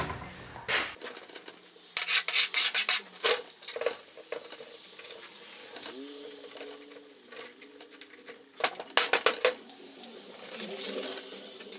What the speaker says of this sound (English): So I'm gonna keep scraping this thing and